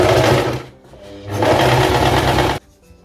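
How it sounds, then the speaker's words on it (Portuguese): Sewing machine stitching the seam of a plaid flared skirt, running in two loud steady bursts with a brief slowdown between them, then stopping abruptly near the end. "A gente vai bater a costura."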